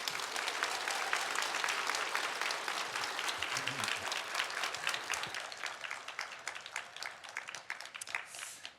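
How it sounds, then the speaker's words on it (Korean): A church congregation applauds steadily to welcome a visiting pastor before a sermon, dense clapping filling the room throughout and thinning slightly toward the end. "큰 박수로 환영하겠습니다."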